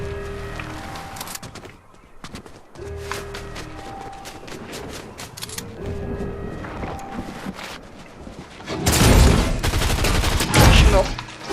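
Gunfire in the Fortnite video game, bursts of rapid shots with tonal game effects, then a louder, dense volley late in the clip, mixed with game sounds and occasional voices.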